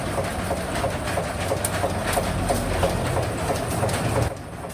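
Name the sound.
sugarcane peeling machine removing the outer layer of stalks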